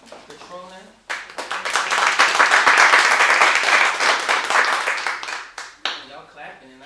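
People at a Trenton Housing Authority board meeting break into clapping that swells over several seconds and then fades, with talk just before and after it.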